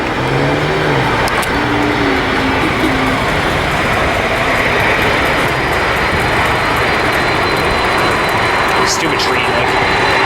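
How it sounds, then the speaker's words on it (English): A China Airlines Boeing 747 cargo jet passes by at LAX with a loud, broad engine roar filling the whole stretch, heard from nearby on the ground amid wind-like rushing noise. "Here comes this 747 cargo about to come by us from China Airlines here"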